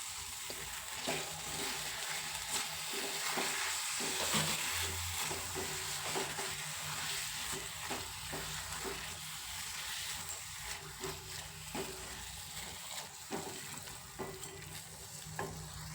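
Eggplant bharit being stirred in a pan as it cooks: a steady soft sizzle with frequent scraping strokes of the spoon, close and fairly quiet, with no talking.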